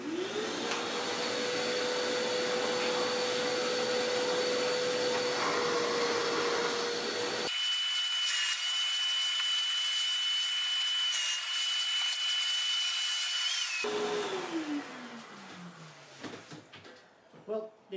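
A Hercules shop vac fitted with a DeWalt cyclone separator runs with a loud, steady whining roar, its pitch shifting midway, then winds down with a falling whine and a few clunks near the end.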